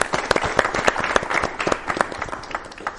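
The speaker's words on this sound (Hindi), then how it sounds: "एक बार जोरदार तालियां हो जाए" Audience at an event on ITI training and employability breaking into applause, a lively spread of distinct, close claps overlapping into a busy, uneven patter that stays strong across the stretch.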